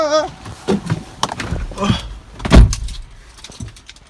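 Someone gets into a car in the rain: a door thumps shut loudly up close amid rustling, shuffling and small clicks, with a brief voice at the start.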